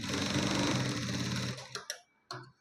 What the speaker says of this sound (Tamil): ஸோ அதே ஒரு இன்ச்சிலேருந்து இந்த மாதிரி ரெண்டு இன்ச்சுக்கு நான் தையல் போட்டுக்கிறேன்